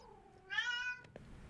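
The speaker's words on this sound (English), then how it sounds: "Oh, meow, says Kira." A single cat gives one short, clear rising meow at close range, followed by a couple of faint clicks in an otherwise quiet room.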